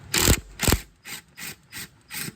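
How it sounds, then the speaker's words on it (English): A ratchet loosens E8 bolts on the actuator of a 2013 Ford Focus, giving six loud, close bursts of rapid clicking in an even rhythm. Each burst lasts a fraction of a second, and no one talks. "We got the 4 E8 bolts we're going to take out right now and pop this out."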